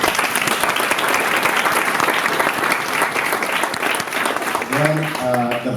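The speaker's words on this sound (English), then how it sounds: "A round of applause," Audience at a startup demo day in Lisbon applauds in a steady, dense wash of clapping that fills the room, with a voice briefly starting to speak at the end.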